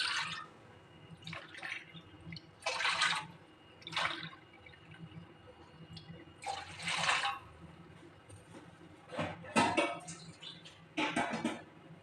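Water is poured in several short, splashing bursts close by, with quiet pauses between them and no voices, measuring water for dissolving jaggery.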